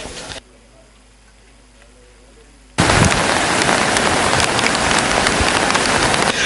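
Heavy rain pours down in a continuous, loud broadband wash after a quieter opening, the downpour steady and close for the rest of the stretch.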